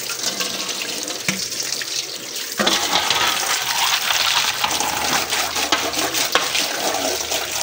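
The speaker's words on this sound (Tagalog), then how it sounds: "Yan, so hugasan natin." Tap water runs steadily into a kitchen sink while something is rinsed under it, a loud continuous gush with splashing that grows fuller partway through.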